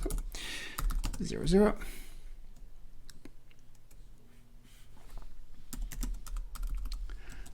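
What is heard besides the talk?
typing on a computer keyboard entering sales order data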